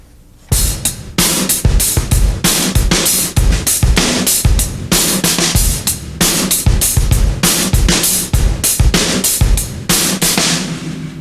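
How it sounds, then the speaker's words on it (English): A drum kit plays a steady two-bar kick and snare groove for a metal drumming lesson, with eighth notes running on the hi-hat. The hits are loud and close, with a regular driving pulse throughout. "let's start off with a simple 2-bar pattern between the kick and snare, and I'll play 8th notes for you"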